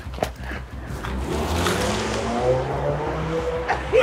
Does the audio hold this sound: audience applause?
no